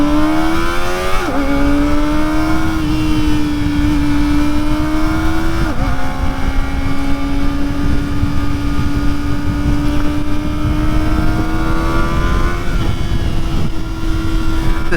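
Kawasaki ZX-4RR motorcycle engine revving hard and accelerating, with steady high-pitched drone and brief pitch drops at quick-shifter upshifts around every few seconds, loud and close under constant wind rush.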